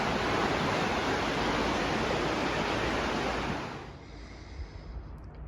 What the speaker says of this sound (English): Definitely a milky white river flowing down from the glaciers.